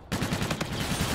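Rapid automatic gunfire in Call of Duty: Infinite Warfare multiplayer, a dense, continuous burst of shots that starts abruptly and keeps going loud and close for the whole moment.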